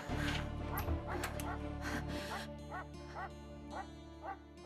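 A dog barks and yips repeatedly at close range, with a whimpering edge between the barks, over a steady background hum.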